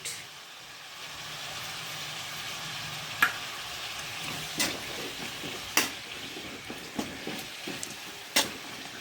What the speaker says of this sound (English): I am going to fry this one